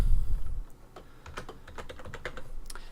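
Fingers tap out a quick run of keystrokes on a computer keyboard, crisp clicks in an uneven burst after a brief low rumble at the start.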